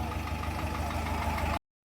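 A tractor engine idling nearby on a road toward a hilltop market near Haridwar, a steady low throbbing chug with no voices, cutting off abruptly.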